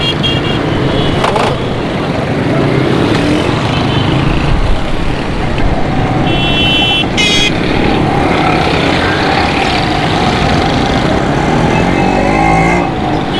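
Dense road traffic with motorcycles on Shahrah-e-Faisal in Karachi, a loud continuous engine roar with passing bikes and occasional high horn tones cutting through.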